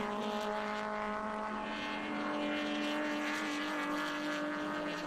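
Vintage racing sedans at an SVRA event, a BMW chasing an Alfa Romeo, hold a steady, distant engine drone with tonal whine, continuous throughout.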